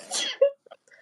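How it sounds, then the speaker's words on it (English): A woman sneezes once, a sharp burst followed by a short voiced catch and faint breathy sounds afterward. "Yeah, she always sneezes 3 times."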